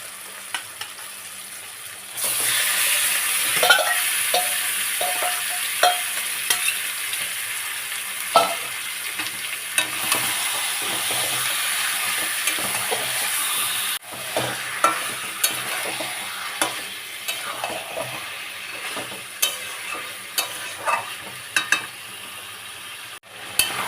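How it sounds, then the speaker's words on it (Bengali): Chicken pieces frying in a thick spice masala in a pan, with a steady close sizzle punctuated by repeated spatula scrapes and stirring knocks, brief dips where the hiss quiets, no voices. "দেখো একদম মশলা কি সুন্দর কষা হয়ে গেছে এইবারে আমি মাংসটা আমার মধ্যে দিয়ে দিলাম"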